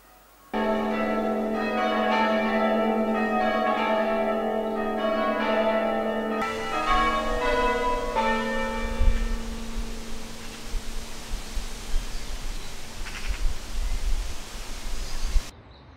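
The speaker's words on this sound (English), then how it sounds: "the churches have to practice bell ringing, and they all have their own evenings when they like to spend a couple hours practicing" Church bells ring during an evening bell practice, a steady, resonant peal heard from a distance, the tones blurring into a wash before fading beneath outdoor rustling and background noise.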